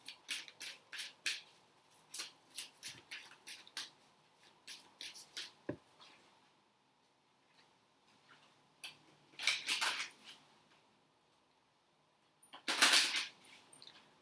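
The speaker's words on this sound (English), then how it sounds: "They're shuffling nicely. All slotting together now, isn't it?" A deck of tarot cards is shuffled by hand in a quiet room, giving quick rhythmic riffling clicks in short bursts and a few longer, louder flutters near the end.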